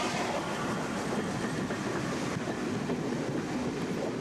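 Steam locomotives Repton and Canadian Pacific rumble steadily past Swithland sidings with dense rolling noise and a faint rhythmic clatter of wheels on track.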